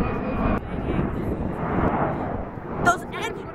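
Airbus airliner jet engines roaring during takeoff at Detroit Metropolitan Airport (DTW), a steady broadband rumble that stays loud throughout while voices talk near the end.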